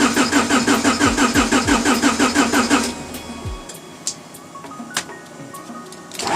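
A race car engine cranks on the starter with a rapid rhythmic churning for about three seconds without catching, then falls quiet apart from a few faint clicks and taps.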